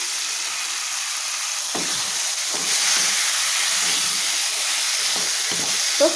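About 300 grams of mutton hisses and sizzles in hot oil in a home kitchen pan, a steady loud frying roar with a few stirring clatters and scrapes.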